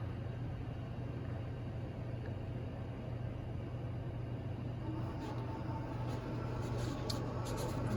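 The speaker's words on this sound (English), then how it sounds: "it's now going to suck it back into the machine and get the cutter ready to cut along that cut line" A Roland Versacamm printer pulls a printed sticker back inside to get its cutter ready, giving a quiet, steady mechanical hum with a few faint clicks and ticks toward the end.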